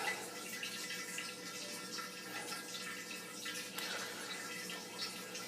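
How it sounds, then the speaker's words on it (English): Water flows faintly through a Vinbrite wine filter, a soft steady trickle with light dripping that continues evenly throughout. "So I'm going to let the water go through and flush out that filter."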